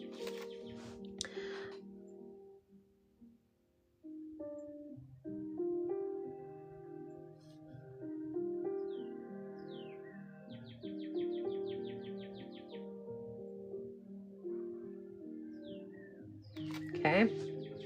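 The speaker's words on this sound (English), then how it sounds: "That's a bird that sits outside my window every morning and chirps." A bird chirps outside a window in the morning, with a series of short, bright chirps and trills heard fairly close, alongside someone talking through much of it.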